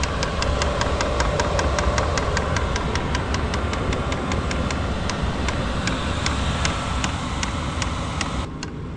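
A vehicle engine idles steadily and loudly outdoors on a cold morning at a riverside campsite, with an even, regular ticking pulse over a constant low rumble and no talking.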